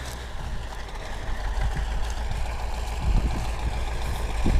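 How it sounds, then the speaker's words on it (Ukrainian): A KhTZ tractor engine idles steadily nearby, a continuous low rumble with slight surges in loudness and no voices over it. "Ну от, діда бабая, трактор."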